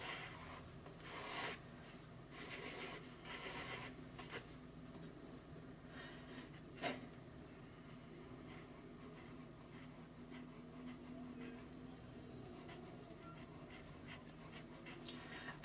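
A brush marker moves over paper in a quick sketch, with faint, close scratchy strokes and soft rubbing that come in short bursts and pauses against a quiet background.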